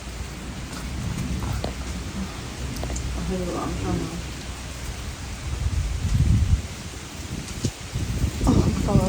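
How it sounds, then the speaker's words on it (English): Stormy night weather around old mills brings steady rain hiss and gusting wind that swells louder in the second half, with a person talking briefly and footsteps or rustling close by. "It's getting very stormy, guys."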